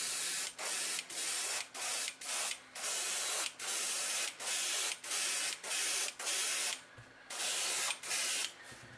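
An airbrush sprays in short repeated bursts, steady hissing pulses about once a second, close and even, with brief pauses between strokes.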